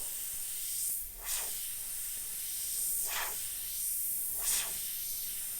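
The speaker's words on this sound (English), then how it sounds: "So keep your airbrush moving, especially when you're doing tentacles." Short hissing bursts of paint from an airbrush, three separate sprays spaced a second or two apart over a faint steady background hiss, close and fairly quiet, while a UV jellyfish is painted.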